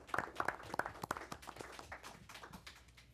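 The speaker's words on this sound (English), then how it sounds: "Let's give Mr. Islam a round of applause." Scattered clapping from a small audience at a Board of Education meeting, a few distinct claps at first that thin out and fade over about three seconds, fairly quiet.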